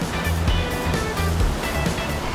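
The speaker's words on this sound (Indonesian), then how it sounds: "di tengah deburan air danau yang semakin membesar" Waves on Lake Ranau surge and splash continuously, loud and close, with rough rushing water filling the short stretch.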